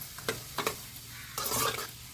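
Bitter gourd and onion pieces fry in hot oil in a pan while a spoon stirs them, giving a few short scraping strokes followed by a louder, steady sizzle close up, with no one speaking.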